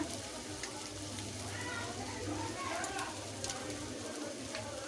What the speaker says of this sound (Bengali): সুন্দর করে নাড়িয়ে চাড়িয়ে কচু শাকটাকে রেডি করতে হবে।